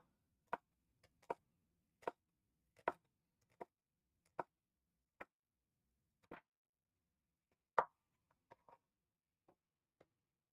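Knife tapping down through a shallot on a cutting board as a bruised spot is trimmed away, about a dozen crisp, quiet chops spaced irregularly with near-silence between them.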